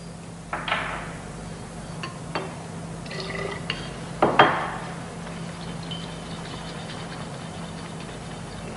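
A glass gas jar of ethene is shaken with bromine water, giving scattered glassy clinks and liquid sloshing against a constant low hum.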